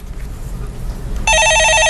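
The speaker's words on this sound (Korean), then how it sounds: "전화 받아보겠습니다." Telephone ringing on a Korean stock-market call-in broadcast, a loud electronic trilling ring that cuts in abruptly near the end over a low background murmur.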